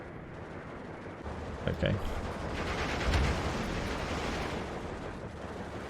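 Anti-aircraft guns fire on a Steel Division 2 battlefield, a dense, rumbling barrage of distant shots and booms that runs continuously while someone speaks briefly over it.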